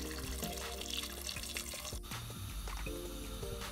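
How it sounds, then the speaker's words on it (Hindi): Hot water, about a kilogram of it, is poured over pieces of mutton in an empty cooking pot, a faint, steady trickle and splash with scattered drips. "गरम पानी डाल देंगे 1 किलो"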